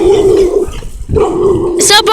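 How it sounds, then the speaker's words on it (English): A dog barks and whimpers nearby in a few short bursts, loud and close, with a person's voice mixed in. "Stop barking."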